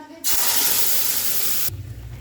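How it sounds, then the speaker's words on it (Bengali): Tomato paste made of tomato, green chilli, ginger, chhena and cashew hits hot oil in a sudden loud sizzle that bursts in, hisses strongly for about a second and a half, then cuts off sharply. "তেলটা গরম হয়ে গেছে, এবারে আমি এই যে টমেটোর পেস্টটা এটা আমি দিয়ে দেবো এতে"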